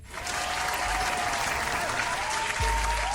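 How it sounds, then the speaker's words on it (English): A burst of soundboard applause effect rises quickly and holds steady, a dense crowd clapping for a few seconds with no talking. "Let me hit a little applause."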